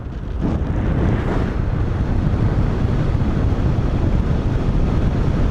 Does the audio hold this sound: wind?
yes